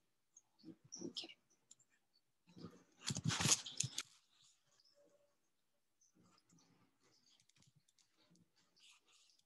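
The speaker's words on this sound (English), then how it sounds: "So I'm just going to type in here." Computer keyboard typing while making a graphic in Canva, a short cluster of close clacks followed by a denser, louder burst of keystrokes, then faint scattered taps trailing off.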